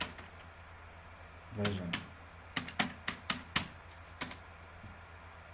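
A computer keyboard typing at a Windows command prompt, several crisp separate keystrokes in a quick uneven run, close and fairly quiet, with a short spoken word in between.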